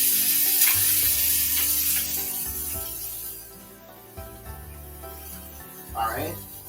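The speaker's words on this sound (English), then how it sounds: "let us go ahead and wash our hands" A kitchen tap runs during handwashing before cooking fried coconut shrimp, giving a steady close hiss of water with a few low knocks and thuds. The flow fades somewhat toward the end.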